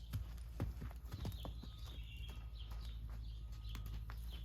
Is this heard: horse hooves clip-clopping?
yes